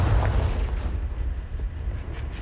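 Confringo fire explosion spell cast in the Hogwarts Legacy video game, a loud, sustained roaring blast with deep rumbling low end filling the whole moment.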